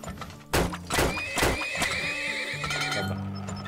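Horses in the video game Turmoil whinny loudly with a long, wavering neigh, accompanied by a few heavy hoof clops and thuds, close and prominent.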